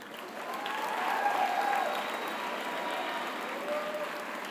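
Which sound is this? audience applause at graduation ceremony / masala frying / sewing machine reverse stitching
audience applause at graduation ceremony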